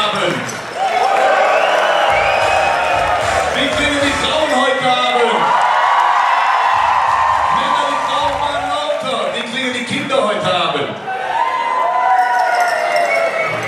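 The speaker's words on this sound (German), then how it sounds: "Wie klingt der Applaus in Irsch?" Concert audience in Irsch cheering loudly, with whoops and shouted voices riding over a thick, sustained wash of noise that stays strong for the full stretch, briefly dipping near the end before surging back.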